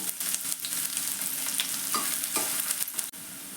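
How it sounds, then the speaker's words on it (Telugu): Finely chopped medium onion frying in a pan for a veg momo filling, with a constant close sizzle and scraping stir sounds that cut off abruptly near the end. "ఇప్పుడు సన్నగా తరిగిన ఒక మీడియం సైజు ఉల్లిపాయ అండి ఇది వేసుకుందాం"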